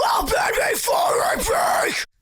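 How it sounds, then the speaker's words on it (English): A screamed rock vocal with an edgy drive distortion is heard in a radio-style mix. The harsh, gritty, sustained yell has rising and falling pitch swoops and cuts off abruptly at the end. "I'm actually a fan of just hearing a little bit of like an edgy kind of drive to this vocal, like this"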